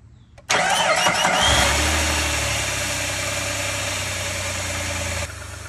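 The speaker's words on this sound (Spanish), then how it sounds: "ahorita prendo el carro" A Jeep Liberty engine cranks and catches after the battery is reconnected following an alternator change, bursting in loud and close, then settling into a steady idle rumble with no talk over it.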